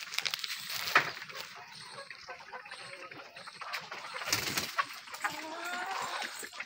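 Village free-range hens inside a low-cost shed holding about 300 birds cluck and squawk in scattered bursts, some louder calls standing out against a fairly quiet, roomy background.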